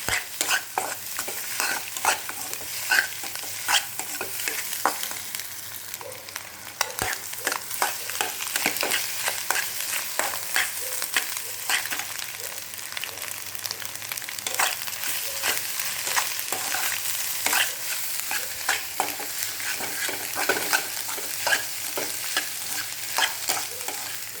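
Egg masala podimas being stirred and fried in a pan, a continuous close sizzle punctuated by frequent rhythmic scraping strokes of a spatula against the pan, with no voices.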